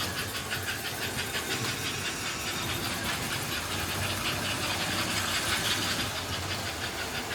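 An American Flyer K5 model train runs quickly along its track, making a steady, close rattling whir with a fast rhythmic clicking throughout and no voices.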